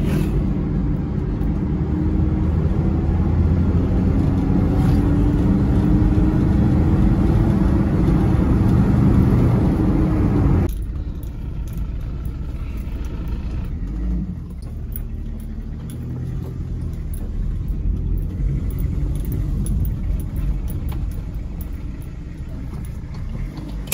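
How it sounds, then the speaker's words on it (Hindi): A Toyota Corolla Indus driving smoothly on the road, its steady low engine rumble and road noise filling the cabin, loud and continuous, dropping to a quieter hum about halfway through. "ऐसे स्मूथ चलती है ना गाड़ी के मजा आ जाता है गाड़ी को चलाने का"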